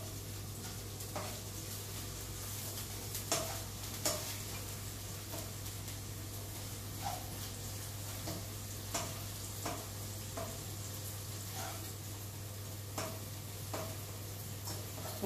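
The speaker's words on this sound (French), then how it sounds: "Donc on remue un petit peu le temps que les oignons" Sliced onions fry gently in a pan, with a low steady sizzle and a constant background hum, punctuated by regular light ticks and scrapes from stirring; no voices.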